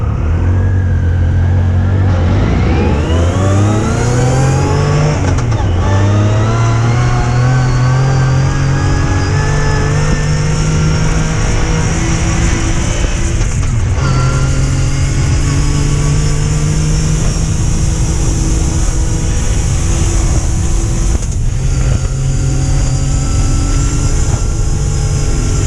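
A Yamaha YXZ1000R side-by-side rips in four-wheel drive off-road, its engine revving hard and climbing through the gears in a loud, close, sustained whine that holds high for the whole stretch.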